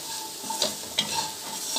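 Fried peas being stirred with chaat masala in a sizzling pan, a steady fry hiss under a few soft spoon scrapes and taps, close and fairly quiet, with no talking.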